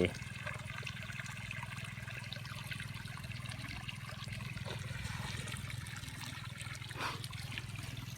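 Water being pumped into a pangola grass plot, heard as a continuous soft trickling and running flow with a low steady hum underneath, faint and even from start to finish.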